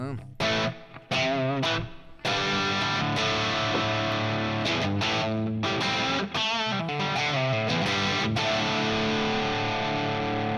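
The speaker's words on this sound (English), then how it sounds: "I also changed the reverb with the medium plate" Electric guitar played through a Fractal Dynacab with medium plate reverb, a distorted, sustained tone with chords and picked notes ringing continuously and loudly, with brief gaps near the start.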